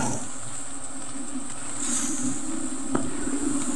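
Honeybees drone steadily around a hive in a rural province, a continuous close buzzing with shifting pitch as individual bees pass near, alone without talking.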